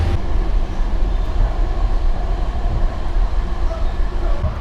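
A passing Metrolink commuter train with a former cab car rumbles loudly and steadily, with a heavy low roar and rattling wheels throughout.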